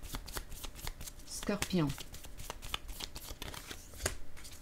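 Tarot cards are shuffled and drawn during a reading, with soft, rapid riffling and slapping of cards throughout, close by, while someone speaks briefly over them.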